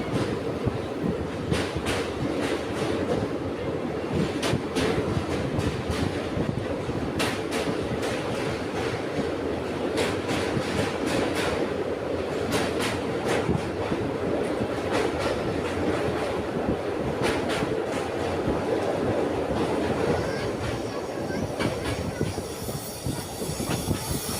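A passenger train rolls across a railway bridge near Barharwa, Jharkhand, producing a loud continuous rumble with regular rhythmic wheel clacks and some squealing that runs throughout, with no voices.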